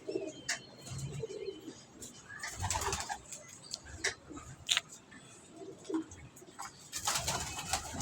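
Pigeons coo softly in a loft, with intermittent clicks, rustles and brief wing flaps around them, fairly close and without speech.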